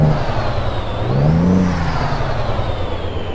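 Truck engine in Euro Truck Simulator 2 with ProMods, a loud close drone that revs up to a rising whine around the middle and settles back to a steady idle-like hum, with no voices.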